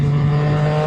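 A Gen 3 Yamaha MT-09 motorcycle engine accelerates with a quick shifter, giving a brief, steady, loud engine drone that stays close and continuous throughout.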